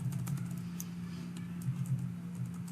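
Router configuration commands being entered on a computer keyboard: quiet, rapid clicking keystrokes in an irregular stream with no voices.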